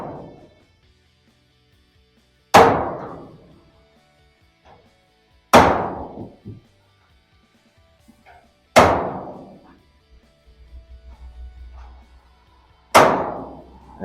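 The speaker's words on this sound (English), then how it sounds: "you want to grab your hammer, and then what you're going to do is you're going to beat it straight down the middle of that seam" A hammer strikes a chisel down the roof seam of a classic car during a roof skin swap, four sharp metallic clangs spaced a few seconds apart, each ringing briefly before silence, with a faint low rumble between.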